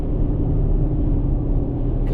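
Convoy of mobile hospital trucks rolling past on a road in western North Carolina, a steady low engine and tire rumble close by, continuous and unbroken.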